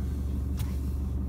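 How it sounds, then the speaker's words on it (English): Steady low traffic rumble from cars travelling along the busy Calder Highway in Victoria, a continuous drone with one brief brighter swish of a vehicle passing midway. "There's lots of cars going up and down the road."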